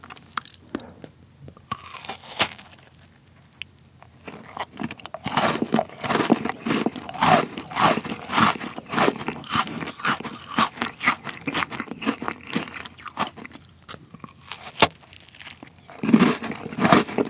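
Close crunchy biting and steady chewing of food in a Korean mukbang, a giant steak, lemon-grilled mullet and butter cookies made in the game Traha, with repeated crisp crunches over about seventeen seconds and no talk.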